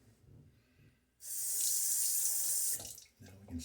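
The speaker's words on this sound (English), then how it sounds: "Now we can start adding water." Tap water gushes into a sink for shaving lather, cutting in abruptly after a quiet pause, running loud and steady for about a second and a half, then stopping, followed by faint handling sounds.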